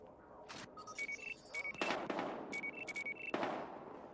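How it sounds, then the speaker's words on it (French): Gunfire in the video game Battlefield Hardline pops in quick bursts amid electronic beeps and game effects, with a heavier blast or two, moderately loud throughout. "Échange de tir à l'angle de la 3e et de la 33e."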